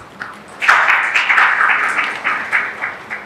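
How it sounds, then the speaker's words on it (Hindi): An audience at an Easter reunion party in Lahore, organized by a Christian journalists' association, applauds a speaker with a short, fairly close burst of clapping that swells and then pulses unevenly. "आपकी भरपूर तालियों में असगर रहमत साहब।"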